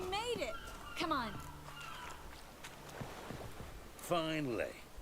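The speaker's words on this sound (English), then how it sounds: "Seagulls. Hear them?" Seagulls cry in The Witcher 3 harbour setting, a few sharp descending calls near the start, around the one-second mark and again near the end, separated by quieter ambient game sound with faint voices underneath.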